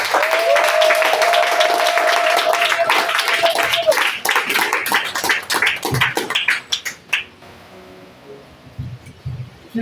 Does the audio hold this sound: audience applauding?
yes